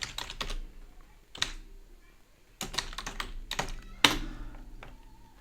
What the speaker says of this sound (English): You need to be able to read what I'm typing.